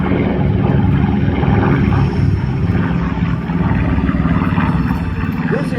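B-25 Mitchell medium bomber taking off, a loud, steady roar of piston engines and propellers close by, constant throughout with a voice speaking under the noise.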